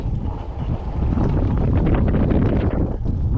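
Wind gusting across a lagoon-side trail, buffeting the microphone in a loud, rumbling roar that swells and eases over a few seconds.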